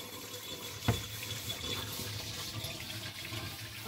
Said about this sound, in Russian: А, уже капает.